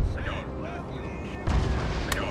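Gunfire and cannon fire in the video game Total War: Napoleon, a dull battlefield rumble with a couple of heavier booms, heard under faint game sounds and distant voices.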